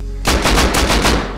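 Rapid gunfire in the survival video game Rust, a loud burst of about five or six shots in quick succession cracking at close range, with no talk over it.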